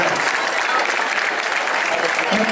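A crowd at Sant Jaume d'Enveja applauds a group of camaraes performers, with continuous close, loud clapping that keeps an even intensity across the whole stretch.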